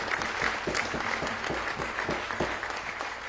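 An opening-ceremony audience breaks into applause, a dense, even wash of many hands clapping at moderate volume that holds steady throughout.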